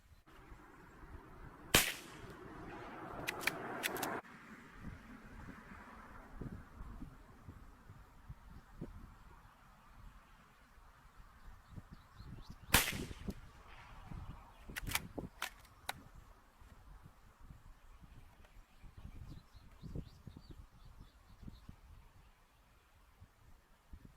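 Three sharp, distinct rifle shots from a Ruger Precision Rimfire crack out at 100 yards during an accuracy test, widely spaced with the first two close together and a third after a long pause, set against quiet outdoor ambience.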